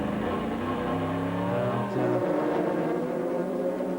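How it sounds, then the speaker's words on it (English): Audi race car from the 2003 American Le Mans Series recorded on board, its engine droning loud and steady with a pitch that climbs through the gears, drops sharply at a shift, then climbs again. "there is the champion Audi as we look on board Kelly Collins"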